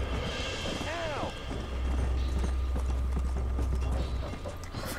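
Rapid hoofbeats of a galloping horse in the video game Red Dead Redemption drum steadily over a low rumble, with a brief whinny near the start.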